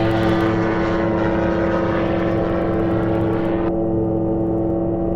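A small propeller airplane flies low near the water before landing, its engine a steady, loud, close drone with strong tonal hum that drops slightly in brightness near the end.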